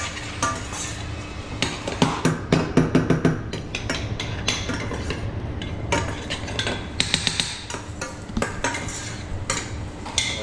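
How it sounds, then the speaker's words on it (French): Morel mushrooms sweat gently in a pan for a beef fillet with morel cream, as a utensil stirs and scrapes with repeated clinks and clatters, close and fairly loud. "Donc pendant 2 minutes, je vais faire suer mes morilles."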